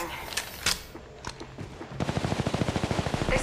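Gunfire from a Call of Duty sniper ranked match: scattered single shots early on, then a rapid, evenly spaced automatic burst that runs to the end.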